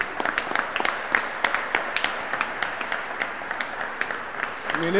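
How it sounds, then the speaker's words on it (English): Audience applause at an all-star awards ceremony: dense, steady clapping from many hands that carries on for the whole stretch at an even level, with a voice starting faintly near the end. "If you can stand up and we can give you an applause"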